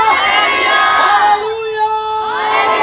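A church congregation at a live Christian meeting in Karachi shouts a slogan back in unison, a loud, sustained crowd chant with cheering voices filling the space.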